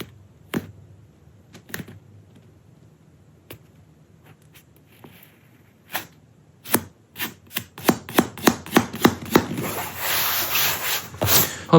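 A thick, soft foam Retrospec yoga mat is rubbed and tapped by hand. Sparse close taps and soft scuffs come first, then quicker repeated slaps and brushing that build into continuous rubbing toward the end.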